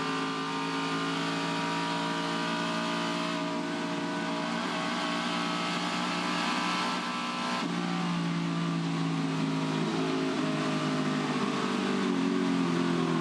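A Ford Falcon touring car races down Conrod Straight at Bathurst, its engine holding a loud, steady, high-pitched roar at full throttle with a brief shift partway through, heard from onboard with no talk.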